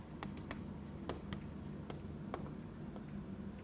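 Marker or chalk writing on a board during a conditional probability maths lesson, faint, scattered tapping and scratching strokes over quiet room hiss, with no speech.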